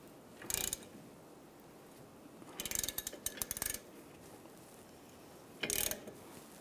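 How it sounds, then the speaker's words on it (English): Ratchet tightening a bearing press tool on the front wheel hub of a 1998-2010 Volkswagen Beetle, with three separate bursts of quick clicking separated by quiet pauses, close and not loud, no talking. "We'll just tighten this up and it's going to pull the bearing through."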